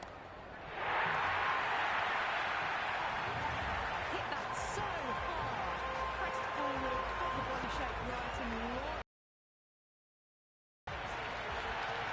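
In the Cricket 26 video game, a simulated crowd roars steadily at the ground, a broad continuous cheer carried under commentary voices. The sound drops out briefly near the end, then returns.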